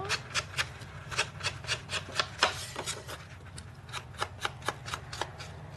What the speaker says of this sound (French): Ça faisait longtemps que vous ne m'aviez pas vu couper et ancrer du papier